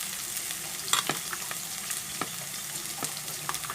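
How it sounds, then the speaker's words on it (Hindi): Capsicum frying in a pan with broadband sizzling and scattered stirring clicks, steady and close, no voices. "अब हम इसमें कैप्सिकम डाल देते हैं"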